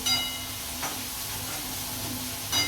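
Onion fries in a pan for paneer bhurji, a steady moderate hiss with faint crackle and a few soft scraping stirs, no voices over it.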